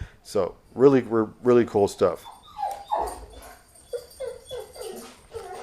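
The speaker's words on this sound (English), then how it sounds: "that is my dog in the back that you're hearing" A pet dog barks, yips and whimpers in a home, a burst of loud barks followed by softer whining and yelps behind someone talking.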